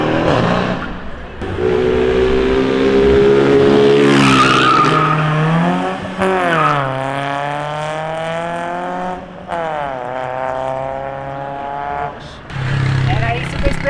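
A Mercedes accelerates hard with loud tire squeal and skidding, its engine rising and falling through several revving sweeps, with crowd noise around it at a car meet.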